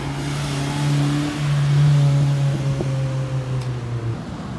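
A Ford Mustang engine hums and revs nearby, with a loud, steady tonal drone that shifts pitch slightly before tapering off, and no voices.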